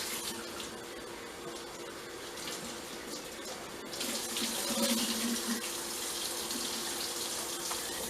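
Water runs steadily from a kitchen tap into a sink, a continuous broadband rush that grows louder and fuller about halfway through, with no talking over it.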